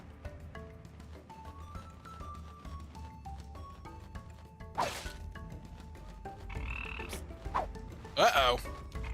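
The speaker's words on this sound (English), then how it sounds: "Seems like frogs are not aggressive." Frogs in the video game Strange Seed croak in a few sharp bursts over a ticking, bubbly game soundscape, the calls fairly close and moderately loud near the middle and end.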